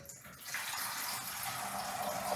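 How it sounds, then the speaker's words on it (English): Water splashing steadily into a bottle from a tap, a bright continuous hiss that starts after a brief pause and stays even and close, with no talking. "I'm going to put some water in my bottle."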